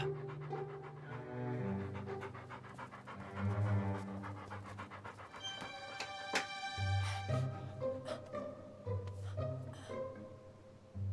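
A dog pants rapidly and rhythmically close by, quick breathy huffs running throughout with brief pauses and some varied vocal tones.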